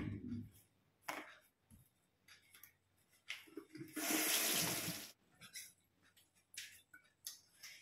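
Milkfish is rinsed under a running kitchen tap: a quiet scene of small clicks and handling noises, then a one-second burst of gushing water before things settle again.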